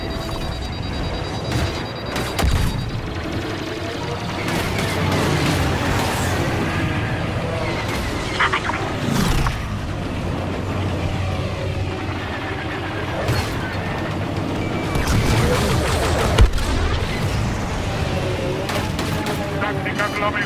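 Blaster gunfire in a starfighter assault in Star Wars Battlefront II, a dense continuous barrage of rapid shots and booms with engine roar, loud throughout, mixed with game radio voices.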